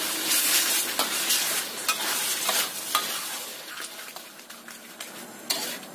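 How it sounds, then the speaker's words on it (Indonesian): Seasoned ingredients stirred and sautéed in a frying pan, a steady close sizzle broken by repeated scraping strokes of a utensil against the pan, with no talking. "Kita aduk. Tumis sampai tercampur ya."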